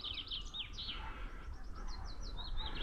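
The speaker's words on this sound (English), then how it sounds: "Can you hear the birds?" Faint birdsong drifts through a quiet outdoor setting, with several small birds trilling and chirping in short repeated phrases over a low background rumble.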